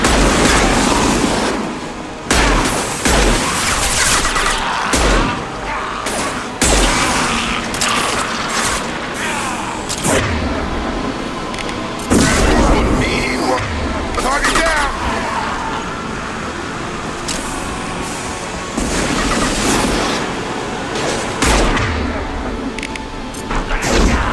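Sci-fi gunfire and blasts in Mass Effect 2 Legendary Edition come as loud, sharp bursts spread unevenly through the clip, mixed with mechanical clatter and rumbling booms, while voices talk in between.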